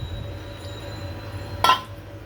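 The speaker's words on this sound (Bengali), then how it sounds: "এখন একটা ঢাকনা দিয়ে আমি ঢেকে দিব।" A lid set down on a cooking pot gives a single short metallic clink near the end, after a quiet stretch of faint kitchen hum.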